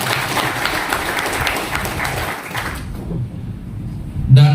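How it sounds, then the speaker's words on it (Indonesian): Steady applause from a crowd at an organization's plenary session rolls on for a few seconds, then fades into quieter room noise before a short sound at the end. "Tepuk tangan untuk"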